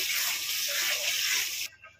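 Water pours steadily into a pan of fried masala base for spring onion kofta curry, a strong continuous splashing gush that cuts off abruptly near the end, with no voices.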